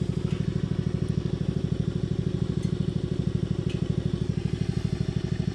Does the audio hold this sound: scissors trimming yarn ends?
no